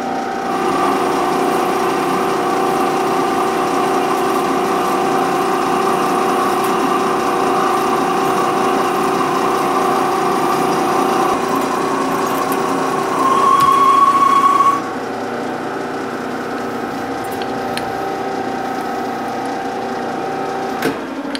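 Toolpost grinder mounted on a lathe cutting a bore at 20 thou depth of cut, 300 RPM: a steady high whine with strong tonal hum, a brief sharper squeal, then a lighter continued drone.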